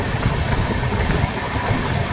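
Jan Shatabdi Express running at speed after pulling out of Soro station toward Balasore, a steady loud rumble of wheels and carriage noise with no pauses.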